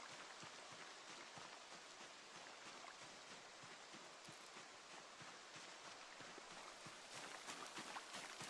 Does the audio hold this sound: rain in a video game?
yes